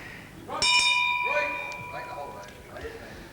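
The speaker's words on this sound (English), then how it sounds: "And right on the bell to end round 1." A bell rings once to end round one of a televised World Mid-Heavyweight Championship wrestling match on old VHS tape, a bright ringing clang with a long fading tail under an excited commentator's voice.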